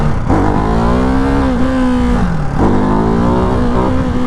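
A Ducati Hypermotard 698 Mono RVE single-cylinder motorcycle pulls hard in second gear, its loud, close engine note climbing steadily, dipping briefly around a shift or throttle change, then rising again.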